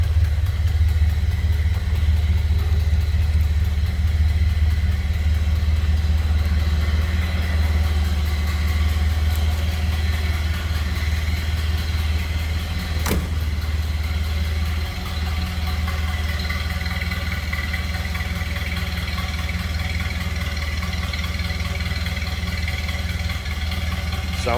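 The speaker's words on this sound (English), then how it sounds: "Sounds like a Model A to me." A 1930 Ford Model A Deluxe Sedan engine idles steadily in neutral with a loud, even, low putter and a faint mechanical clatter. The sound is close and continuous, with one brief click partway through.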